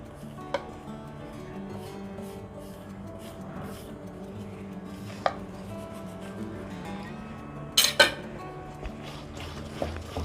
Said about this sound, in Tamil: எல்லாத்தையும் போட்டு நல்லா மிக்ஸ் பண்ணிக்கலாம்.